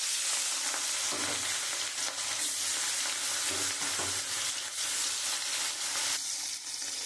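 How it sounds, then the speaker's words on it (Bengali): Rohu fish sizzles and crackles in hot oil in a wok, a steady loud hiss with occasional stirring clinks and spatters, no voices. "কড়াইতে তেল দিয়ে দিয়েছি তেলটা গরম হয়ে গেছে এবার আমি মাছটা দিয়ে দেবো"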